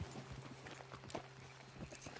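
Horse hooves clip-clopping at a walking pace in Red Dead Redemption 2, a steady run of light, moderate hoofbeats over a faint droning background with no talk.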